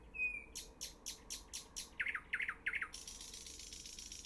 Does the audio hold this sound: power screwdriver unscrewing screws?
no